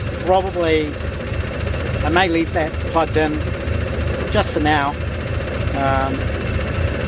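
A pre-war car engine, an Austin 7 or a Riley 9, idles with a low, steady chugging under someone talking close by for most of the stretch.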